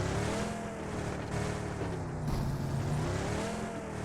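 A video game vehicle's engine drones steadily at close range over a low rumble, holding a continuous driving tone throughout with no talk.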